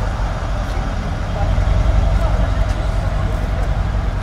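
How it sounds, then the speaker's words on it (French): A Mercedes ML 63 engine idles just after starting, a muffled, steady low rumble close by that swells slightly partway through, with faint talk underneath. "Tu nous la démarres, Franck, qu'on entende le bruit?"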